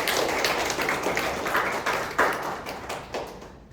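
An audience at a Toastmasters club meeting applauds an icebreaker speech, dense steady clapping that stays loud and then thins and fades out toward the end.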